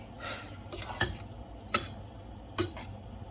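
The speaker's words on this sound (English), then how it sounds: "All right, we're gonna stir that in." Jerk pineapple shrimp being stirred in a pan, with a few distinct scraping clinks of a utensil against the metal over a soft background hiss, close and moderately quiet.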